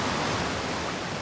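Rushing water in the space exploration game Outer Wilds, a steady, full-bodied broadband roar like a torrent or surf, constant and close throughout.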